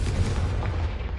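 A Confringo spell explosion from Hogwarts Legacy rumbles as a loud, low, continuous blast filling the whole short moment, with no speech over it.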